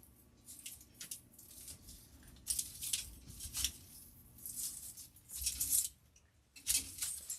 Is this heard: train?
no